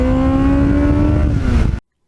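A 1989 Kawasaki GPX750R Ninja motorcycle with a Muzzy exhaust revs hard, a loud, close, sustained engine howl whose pitch sags slightly before cutting off abruptly near the end.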